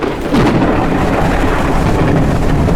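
Thunderstorm in the video game Forever Skies: a loud, steady roar of heavy rain and rumbling thunder swells in after a brief quieter start and then holds, with no talking.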